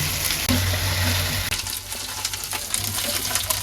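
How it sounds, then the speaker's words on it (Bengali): Meat frying with spices and salt in a village kitchen pan: a loud, close crackling sizzle with a brief rushing burst early on, then softer bubbling and occasional stirring scrapes. "এবার এগুলো আগে ভাজা ভাজা করে নেই"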